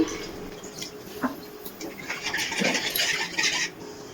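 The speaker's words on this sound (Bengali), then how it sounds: "টক দইয়ের বাটিতেই এক বাটি জল দিয়ে দিচ্ছি" A bowl of water is tipped into a soya chunk kofta curry in a pan after sour yogurt and spices were mixed in: soft splashy pouring and drips, fairly close, building over a few seconds.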